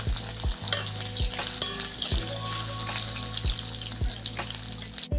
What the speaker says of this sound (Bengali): মাছ ভাজার তেলে আমি আলুটা ভেজে নেব